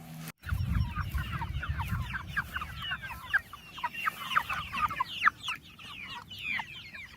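A flock of chickens clucks and chatters steadily, many birds at once close by in their pen on a farm, a busy rhythmic murmur of short calls with a low rumble underneath.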